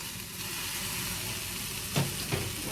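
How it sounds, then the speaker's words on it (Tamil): Onions sautéing in a pan for shrimp gravy, a continuous close hiss of frying with two brief scrapes near the end. "வெங்காயம் அரைவாசி வதங்கிட்டுது, எல்லாம் கொஞ்சம் நல்லா வதங்கட்டும்."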